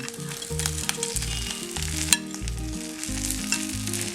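Chicken, roasted coconut and green chilies sizzle steadily in a pan for a Payyoli chicken fry, a constant close frying hiss running under louder background music with a few brief stirring clatters.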